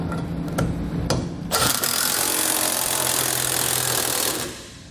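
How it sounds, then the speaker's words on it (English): An impact driver with a 1/2 inch hex bit tightens a large bolt through the bumper of a 2013 Ram 1500 while a trailer hitch is installed: a few quick clicks, then a steady rattling whir for about three seconds before it stops. "I'm going to grab a 1/2 inch hex bit and tighten up the large bolt going through the bumper"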